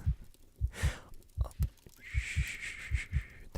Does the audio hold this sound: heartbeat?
yes